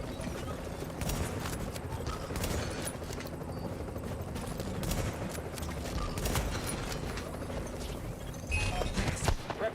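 A deployable turret fires in the video game The Division, letting off sharp, irregular bursts of shots over a busy background of game noise, with no speech.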